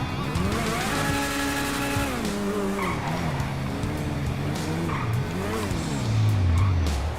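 BF Raptor three-wheeled motorbike from GTA 5 Online: a steady, buzzy engine note that rises and falls as it revs and shifts, with a brief tire squeal and a louder surge near the end, no talk over it.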